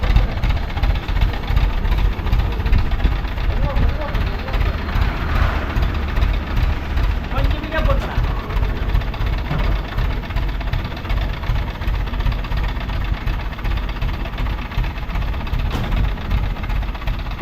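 A motor vehicle engine idles loudly and steadily, with a constant low rumble and slight knocking vibration throughout. The vehicle is being used to carry a Ganesha idol from Hosur to Kuppam.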